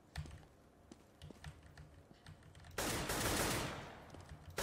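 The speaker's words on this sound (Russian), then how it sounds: "Но стреляет акул, конечно, жестко" Gunfire in the Counter-Strike video game: scattered keyboard clicks and light taps give way to a loud, sustained burst of rapid automatic shots that fades out, with no talking.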